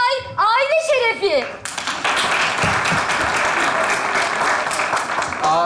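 A studio audience at a comedy sketch show breaks into steady, dense applause to welcome a returning alumnus guest, preceded by a brief burst of voices and music, then clapping carries on strongly with a few louder individual claps near the end.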